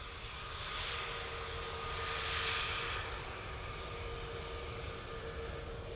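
A Ryanair Boeing 737 Max jet begins its takeoff roll at Manchester Airport, a distant, steady engine roar that swells slightly early on and then holds even, with no talking.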